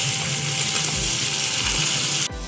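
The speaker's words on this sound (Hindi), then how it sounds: "प्याज, टमाटर, हरी मिर्च का पेस्ट बनाया था, इसमें ऐड करेंगे। इसे अच्छे तरीके से भूनेंगे।" Onion, tomato and green chilli paste frying loudly for mutton karahi, a dense, close, steady sizzle with a few low clunks of the pan, cutting off abruptly near the end.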